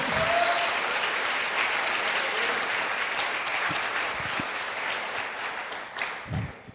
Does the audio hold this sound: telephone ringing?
no